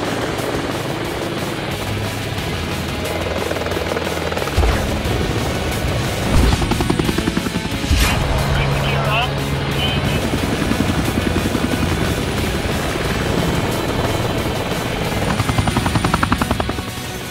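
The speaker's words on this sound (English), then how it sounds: "helicopters can drop medics into an area to assess injuries" A helicopter on a medical rescue flight thrums loudly and steadily nearby, its rotor chop pulsing continuously over a roaring engine with no voices.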